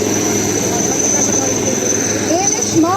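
Indian Navy rescue helicopters fly over the sea during a rescue display, producing a loud, steady rotor and engine drone with a high whine and a few faint chirps near the end.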